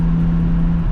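BMW G80 M3 with catless downpipes, secondary cats and a large suitcase muffler, idling with a loud, steady, muffled low exhaust drone and a constant hum.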